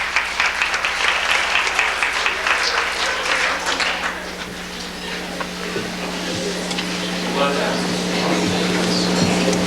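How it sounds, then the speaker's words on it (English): Applause from a guest crowd at a 1989 or 1990 bat mitzvah candlelighting ceremony: dense, steady clapping fills the first few seconds, then thins and fades into room murmur and talking. "So he deserves a round of applause"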